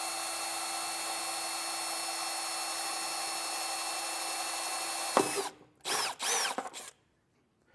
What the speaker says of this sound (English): We need to take a 3/8 drill bit and drill a hole in it.